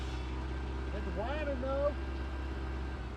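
Engine of an old Ford Ranger truck running after sitting abandoned for 14 years, a low constant idle hum with someone talking briefly over it.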